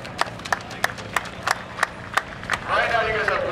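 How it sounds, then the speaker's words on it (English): A small crowd at a race awards gathering claps in a sparse, slow rhythm of about ten separate claps, then a brief swell of louder applause and voices near the end. "Right now, you guys have one job, and that is to clap."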